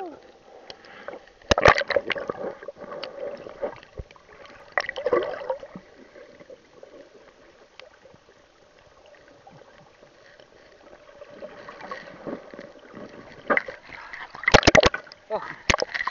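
A boat rides the sea off Pantai Kelambu, with irregular splashes and knocks of water against the hull over a low, sloshing wash, and a few louder bursts near the start and end.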